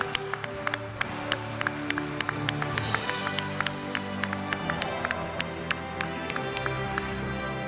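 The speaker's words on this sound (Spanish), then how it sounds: "Un nuevo aplauso, por favor." Audience applauding at the Colombian education awards ceremony "Los Mejores en Educación 2011", a dense, steady patter of many hands with a few sharp, distinct claps standing out, sustained for several seconds.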